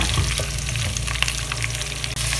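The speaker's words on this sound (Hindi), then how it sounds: "पैन में 1/4 कप ऑयल डाल दें और इसमें भिंडियाँ फ्राई कर लें।" Okra (bhindi) fries in about a quarter cup of oil in a pan over medium flame, a continuous close crackling sizzle with small pops and no speech.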